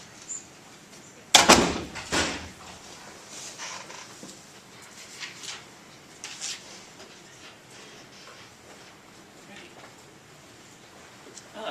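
A door thumps shut in a lecture room, a sharp slam followed by a second softer knock, with faint murmurs and rustling afterward.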